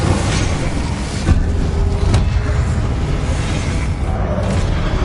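A fire spell cast in Hogwarts Legacy on PS5, heard as a loud, dense rumbling whoosh with a few sharp bursts layered into a continuous roar of game combat.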